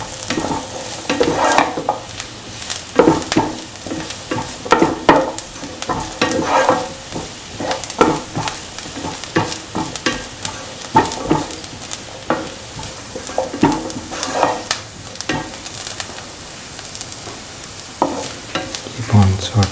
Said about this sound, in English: salt and mix the onions and the shallots until the shallots lose the pinkish color.